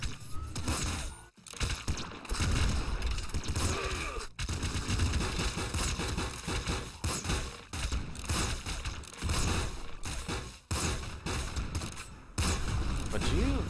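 Loud, rapid bursts of gunfire and explosions in Nuclear Throne (Ultra Mod) fill the clip almost continuously, with brief dips between volleys.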